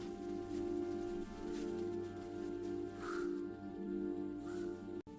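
Bird calls in an animated Panchatantra children's story about a mother bird and her chicks: a few short chirping coos rise over a steady, sustained musical background, with no talking.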